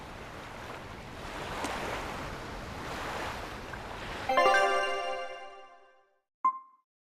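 Rolling ocean waves while sailing in Tales of Berseria, a steady wash of surf and wind that swells, then gives way to ringing chime tones and fades into silence before a brief final tone.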